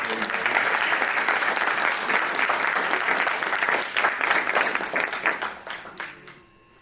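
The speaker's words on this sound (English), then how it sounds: "Thank you again to our fantastic speakers for giving me another round of applause." Audience applause at a student innovation and entrepreneurship event, full and steady at first, then breaking into scattered individual claps that taper off to quiet.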